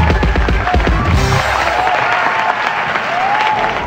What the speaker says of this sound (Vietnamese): Còn bây giờ chúng ta hãy cùng dành một tràng pháo tay để làm quen với các bé trước đã